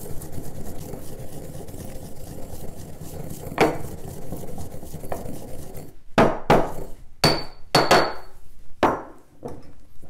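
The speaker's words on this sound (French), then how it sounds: "On met un peu de sel dans le mortier. Ça fait une forme d'abrasif. Ça aide beaucoup à réduire nos épices en poudre." Spices and salt are ground in a mortar: a series of sharp, close knocks and gritty scraping strokes, irregularly spaced, over a quiet background.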